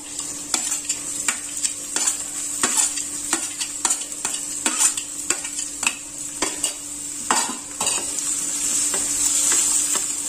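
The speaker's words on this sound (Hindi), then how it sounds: "गोल्डन ब्राउन होने तक प्याज को भून लेते हैं।" Steady sizzling of chopped onions frying in a pan until golden brown, with repeated scraping and clinking of a spoon stirring throughout.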